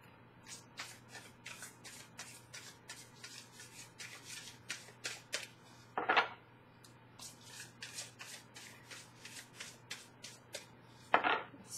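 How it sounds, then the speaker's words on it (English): Tarot cards are shuffled repeatedly in quick riffling bursts, close up, with two sharper, louder riffles standing out among the softer ones. "Do one more shuffle."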